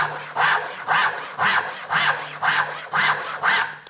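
A hand saw cuts through a piece of wood clamped to a small mobile workbench, producing about seven steady, evenly paced back-and-forth rasping strokes, close and loud with no talking.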